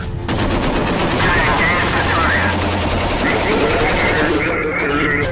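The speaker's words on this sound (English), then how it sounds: "another bro of mine's laying down fire and I start firing" Dense video-game gunfire in a battle of soldiers against a giant, continuous rapid automatic bursts, loud and close, with a voice talking over the shooting.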